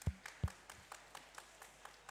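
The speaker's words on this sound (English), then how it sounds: "Why don't we give them another big round of applause?" Applause from an audience at a Malaita Day cultural performance in Suva, Fiji: two loud claps up front, then a scattered, thinning patter of distant clapping that fades quickly.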